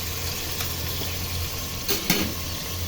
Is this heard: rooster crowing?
no